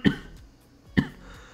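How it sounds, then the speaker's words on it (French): Two sharp coughs from one person, spaced about a second apart, close and fairly loud with quiet between them. "je vais tousser, les amis, parce que j'en peux plus"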